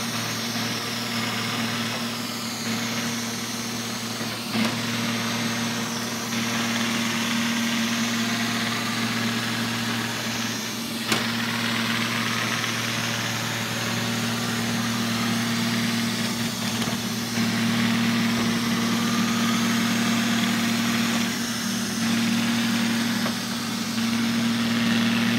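A cleaning machine with a brush on each side runs in Tampere, Finland, giving off a steady, close engine-like hum with a low mechanical drone that holds constant throughout.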